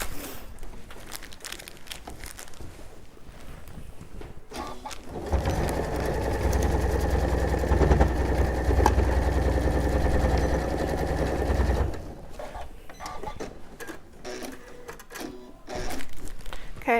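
A sewing machine stitches in the ditch along quilt binding in one sustained, loud, even run of rapid stitching, preceded and followed by quieter handling sounds.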